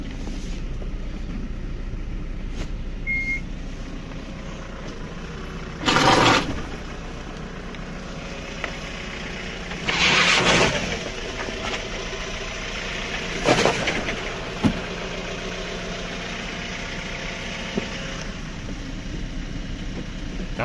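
A Hyundai Porter Euro 6 truck engine idles steadily at a low, even hum with no talk, broken by a few brief louder bursts of wind-like noise.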